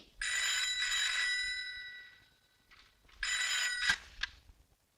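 An old telephone bell rings in a 1990s Bollywood Hindi film. It gives two loud, sustained bursts of ringing with a brief gap between them, and then a couple of short clicks follow.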